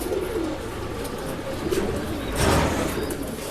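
Pigeons cooing in a pet shop, a steady stream of soft, low bird calls with a louder swell near the end, set against busy room noise.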